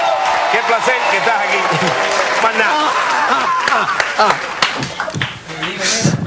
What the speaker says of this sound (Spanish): Aplauso a Leo Vera, de lo grande de verdad.